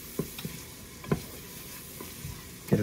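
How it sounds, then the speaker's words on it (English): Tortilla soup ingredients sizzle softly in a pan while a utensil stirs them, giving a few sharp scraping knocks against the pan over a low, steady frying hiss, quiet and close. "I'm just gonna mix up"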